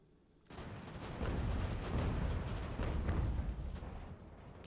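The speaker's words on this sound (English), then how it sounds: "He does have artillery back there that's firing on me." Distant artillery rumbles in a Ultimate General: American Revolution battle, a sudden onset swelling into a sustained low roar of cannon fire that tapers slightly at the end.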